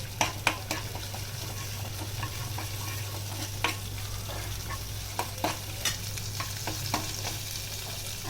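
Crushed ginger and green chilies sauté in hot oil in a kadai: a soft, continuous sizzle with scattered light clicks and scrapes from a stirring spoon, fairly quiet and close, no talking.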